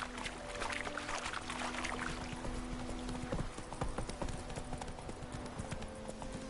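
Hooves of Roach, a horse in The Witcher 3, clip-clopping in a quick, steady rhythm at close range, with a faint watery or creaking undertone running beneath the hoofbeats.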